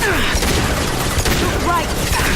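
Pistol fire in the Mass Effect 2 video game: a dense, loud volley of shots packed tightly together with other battle noise, continuous and unbroken.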